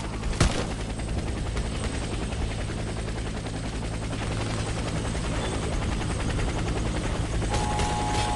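Helicopter in a video game, a steady, loud rotor drone with low throbbing hum, joined by a sharp burst of gunfire near the start and continuing without talk.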